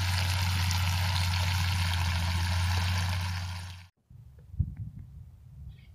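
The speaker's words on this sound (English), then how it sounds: "Letting the water flow through." Water from a gravity-fed tank rushes through an opened valve, a loud, steady flow with a low hum that cuts off abruptly, followed by faint trickles and small splashes.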